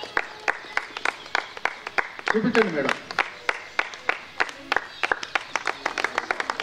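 Scattered audience clapping at a student award ceremony held by a Brahmin service association in an Indian hall; irregular, fairly close claps run throughout, with a brief spoken exchange in the middle.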